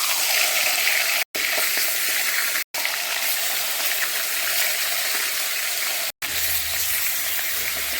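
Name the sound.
pangas fish frying in hot oil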